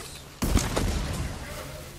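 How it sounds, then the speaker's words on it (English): A sudden loud boom from an explosion in the video game Blood and Steel breaks out of quiet, followed by a rumbling, crackling burst of gunfire-like blasts that decays over a second and a half. "Watch the explosions again."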